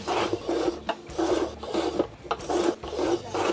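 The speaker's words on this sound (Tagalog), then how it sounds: "pwede tayong gumamit ng sliding cutter" A sliding cutter scrapes across material in close, repeated strokes, with about six rasping passes each cut off by a short pause.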